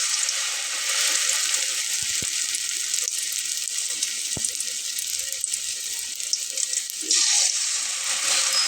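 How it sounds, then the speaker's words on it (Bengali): Aloo puffs deep frying in hot oil, a continuous bright sizzle and bubbling hiss close up, with a few soft clinks of utensils. "পুরোটাই চুবিয়ে নিয়ে তেলে ভেজে নিতে পারেন।"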